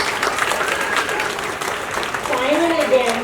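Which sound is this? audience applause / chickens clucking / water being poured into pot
audience applause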